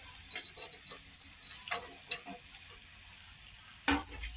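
Bread masala being stirred in a pan, soft scraping and ticking of a spoon against the metal in an irregular rhythm, with one louder clatter near the end.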